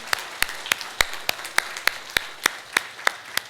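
A church congregation claps in unison, giving a steady rhythmic beat of sharp claps about three per second, evenly spaced and fairly close, with no speech over it.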